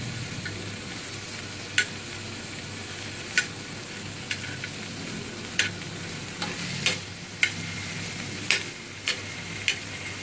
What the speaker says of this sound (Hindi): अच्छे से हम पलट के इसे हम फ्राई कर लेंगे।